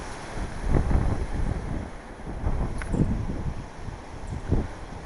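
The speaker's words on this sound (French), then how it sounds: "Le vent devient de plus en plus violent." Strong cyclone wind gusts buffet the microphone in a steady roar, with surges and rumbling gusts rising and falling throughout.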